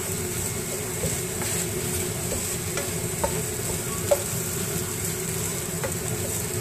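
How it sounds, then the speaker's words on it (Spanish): Egg cooking in a wok for homemade Chinese fried rice gives a steady, moderate sizzle with a few faint clinks from a utensil against the pan. No one talks. "el huevo, que quede, vaya secando, vaya cocinando en el wok."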